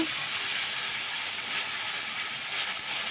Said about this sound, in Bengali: ফোড়ন ফুটে এলে আমি পেঁয়াজ আদা রসুন শুকনো লঙ্কা আর ধনে জিরের যে পেস্টটা আমি করে রেখেছিলাম ওটা প্রথমে দিয়ে দেবো